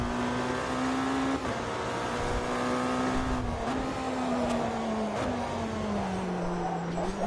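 A BMW M Hybrid race car in a racing sim runs with a steady, loud engine drone, pitch wavering and dipping slightly through gear changes and corners, with faint tire and chassis noise underneath and no talking.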